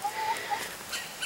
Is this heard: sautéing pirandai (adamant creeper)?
no